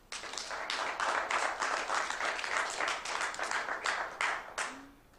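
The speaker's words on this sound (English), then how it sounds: "I believe clapping again is not appropriate in the gallery" Applause from the public gallery at a city council meeting in Okotoks, sustained and fairly loud for several seconds, with many hands clapping, then tapering off at the end.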